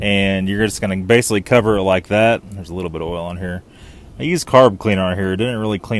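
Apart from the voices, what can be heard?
No everyday noises stand out.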